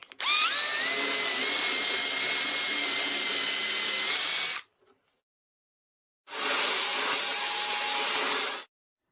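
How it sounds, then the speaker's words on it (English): A power drill bores a dowel hole through wood clamped in a doweling jig, a loud close whine running for several seconds, pausing, then a second long burst. "I can now secure the doweling jig and drill a perfectly centered hole"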